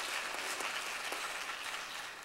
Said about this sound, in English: and that deserves applause.